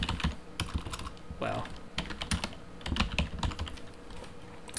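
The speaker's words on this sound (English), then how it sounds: "Let me type it correctly." Keys clatter on a computer keyboard in quick irregular bursts of typing, fairly close and quiet, with a brief spoken exclamation partway through.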